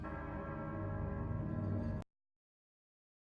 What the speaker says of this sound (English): Did you hear the bell? The bell? Of the port authorities?